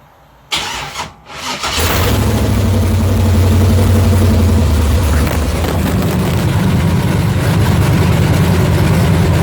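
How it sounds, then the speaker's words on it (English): A car engine cranks briefly, catches and settles into a steady, loud, close idle that holds for the rest of the stretch. "I'm going to start the car up at this point, and we're going to see what vacuum reading we get."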